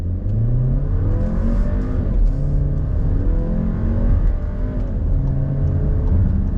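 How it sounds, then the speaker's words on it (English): A 2021 VW Atlas 2.0T 4Motion SUV accelerating on throttle, a loud, close engine drone whose pitch climbs steadily through several gear changes, heard from inside the cabin with no talking. "But let's do a little bit of on throttle"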